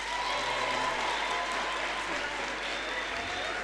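Audience at a graduation ceremony breaks into sustained applause, a dense, steady wash of many hands clapping throughout, with no clear talk on top.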